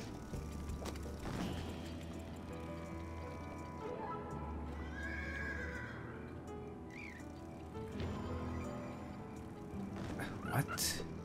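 Horse neighing with clip-clopping hooves, several whinnies and hoof clatters close by over a busy background, with people talking at times.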